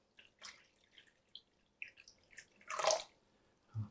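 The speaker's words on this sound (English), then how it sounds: "I have some flood water and with some blue food coloring in it. I'm just going to pour it in here" Water tinted with blue food colouring is poured into a small container, giving a string of soft close drips and trickles, then a brief louder splash and a final low thud.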